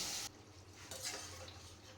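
Water pours into a pan of Bengali hilsa fish curry cooked with mustard paste: a brief louder splash first, then a steady soft hiss and gurgle of liquid settling and simmering, close by.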